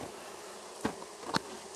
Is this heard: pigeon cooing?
no